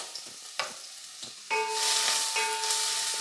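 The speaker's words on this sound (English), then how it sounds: "saute this for a while" Chopped onion (two medium onions) hits hot oil in a pan, bringing a sudden loud, steady sizzle after a few soft clinks and taps, with a constant bright hiss that holds to the end.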